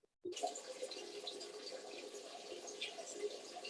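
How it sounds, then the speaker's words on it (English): Water runs steadily from a tap into a sink, a continuous broadband splashing rush that starts abruptly and holds at a fairly close, even level throughout. "now he's turned the water on"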